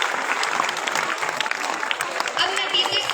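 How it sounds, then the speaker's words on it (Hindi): An audience at a Teachers' Day celebration at a school in Taranagar, India, claps steadily, a dense, sustained round of applause from a crowd, fairly loud and continuous. "ताली बजाया करो रे।"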